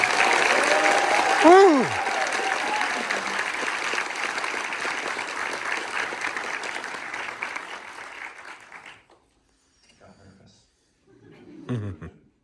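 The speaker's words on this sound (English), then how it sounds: "let's give a big round of applause" An audience at a film event on a studio lot bursts into loud applause with a whoop and laughter, the clapping fading out after several seconds before brief talk and laughter follow.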